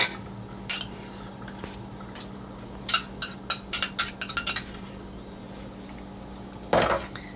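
Metal spoon scraping and clinking against a cooking pot while tomato paste is stirred into simmering meat and water for Persian khoresht gheymeh; a few sharp clinks at first, then a quick cluster of taps and one louder knock near the end, with a steady background hum.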